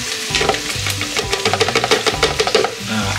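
Anchovies and petai being sautéed in a pan on a new stove, with a steady sizzle and rhythmic scraping stirs across the pan, close and fairly loud, with no talking.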